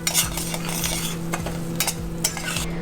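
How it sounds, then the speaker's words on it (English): Nuts and semolina fry together in a pot, stirred continuously with a utensil that scrapes the metal in a steady rhythm over a soft, constant sizzle, close up and with no voices. "And we're going to fry the nuts."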